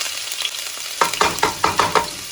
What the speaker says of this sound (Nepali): तातिसकेपछि सानो चम्चाको 1 चम्मच जति जिरा एड गरिदिनुहोस्